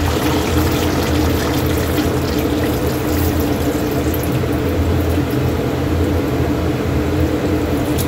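Water pours steadily into a cooking pot of pork, ahead of adding milkfish, making a loud, continuous splashing rush throughout with no talk.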